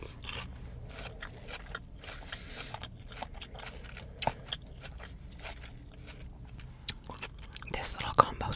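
Close, quiet chewing of Olive Garden breadcrumbs and meat, soft crunches and mouth sounds in an irregular rhythm, with whispered talk throughout.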